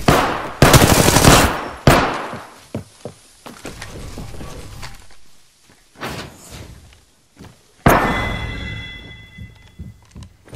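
Video game gunfire rings out in loud bursts: a dense rapid automatic volley up front, then scattered single shots and thumps, then another heavy burst with a ringing tail, all close and sharp.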